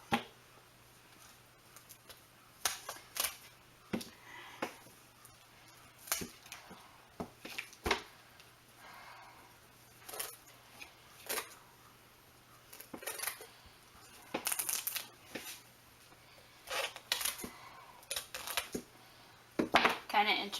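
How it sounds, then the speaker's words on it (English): Pruning shears snip through herb plant stems in a quiet room, giving a series of sharp, close clicks and cuts spaced irregularly, some in quick pairs, over a faint steady hum. "I'm going to take my pruning shears, because that's the easiest way to cut plants"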